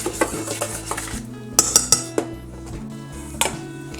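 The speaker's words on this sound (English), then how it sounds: "and a pinch of salt. And we're gonna whisk that." Whisk clinking against a bowl while mixing flour, baking powder and a pinch of salt for a banana chocolate loaf, a run of sharp close metallic taps and scrapes in uneven rhythm.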